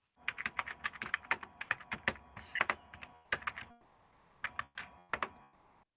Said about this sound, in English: Type in your Bob team name